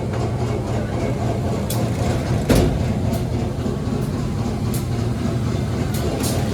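Dharmawangsa Ekspres economy-class train pulling out of Tegal station in Indonesia, a steady low rumble of the rolling carriages heard from inside, with one brief knock partway through.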